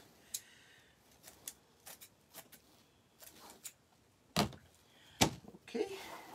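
Scissors snip through wreath material in a string of short, sharp cuts, faint and close by, with a few louder clacks near the end.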